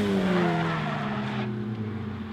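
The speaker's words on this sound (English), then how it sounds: "Little lockup on brakes there." Miata race car on track locking its front brakes on cold tires, a loud tonal tire squeal that slides downward in pitch for about a second and a half over engine noise, then fades, with no talk.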